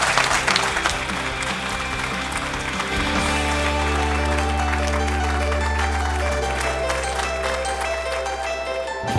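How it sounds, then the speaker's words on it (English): An audience applauds the winning team at a university student ideas contest, a loud, steady wash of clapping filling the whole stretch, with music tones sustained underneath. "Big applause."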